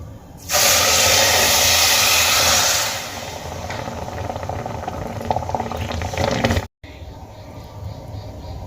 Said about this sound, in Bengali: এবার চিনিটা আমি জাল দিয়ে নেব